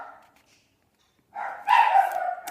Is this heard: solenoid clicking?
no